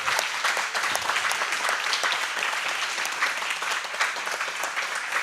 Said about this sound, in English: Can I please just get a round of applause for all of these storytellers?